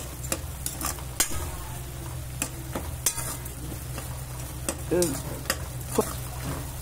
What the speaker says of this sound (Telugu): ఈ సుక్కకూరను కొంచెము మంచిగా నూనెలా వేయించుకోవాలి.